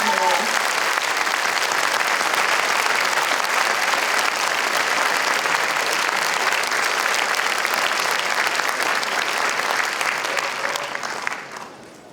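Sustained, dense applause from a large audience for friends and family at a university degree ceremony in Harrogate, a loud continuous wash of many hands clapping that holds steady for about eleven seconds before tapering off.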